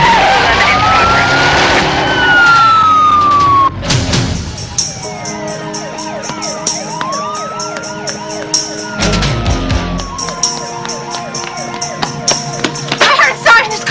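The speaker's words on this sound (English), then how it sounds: "I heard a siren." An emergency vehicle siren wails in rising and falling sweeps, moderately loud and layered over car engine noise and street sounds, with a sharp vehicle noise just before it starts.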